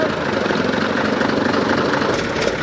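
A TAM 5500 truck engine running after sitting 25 years, a steady, loud, close idling rumble that holds evenly throughout with no talk.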